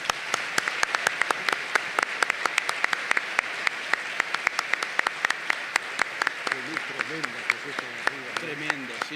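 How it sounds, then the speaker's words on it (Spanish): Audience at the Buenos Aires book fair bursts into sustained applause, dense claps filling the hall at steady loudness from start to finish, with a voice briefly talking over the closing moments. "Un aplauso"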